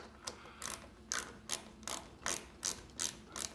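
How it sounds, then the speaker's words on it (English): A ratcheting screwdriver-tip holder clicks through quick bursts of rapid pawl clicks, about nine evenly spaced strokes, close and fairly quiet with no talking. "I needed to buy this ratchet that holds a screwdriver tip."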